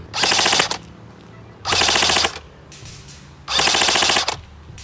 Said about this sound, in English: Now for some full auto.